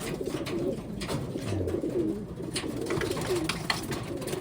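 Taiwanese Wantai pigeons coo close by, soft throaty rolling calls repeating several times at a steady, unhurried pace over a low background hum.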